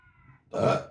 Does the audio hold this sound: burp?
yes